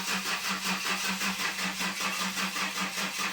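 A Ford Granada engine cranks over on a flat battery, failing to catch. The starter churns loud and close in a steady, rapid rhythmic chug that holds evenly throughout, with no voices.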